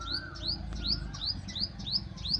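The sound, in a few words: small bird chirping after falling in a storm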